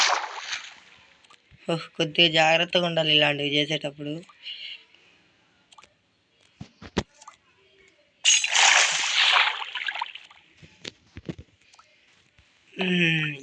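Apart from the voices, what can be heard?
splashing into water in video game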